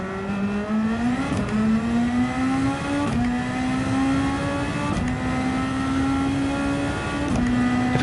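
A race car engine in Gran Turismo 7, a Superformula car at Suzuka, holds a loud steady high-pitched whine that dips sharply at each short shift, with a drop near one second and smaller ones near three and seven seconds.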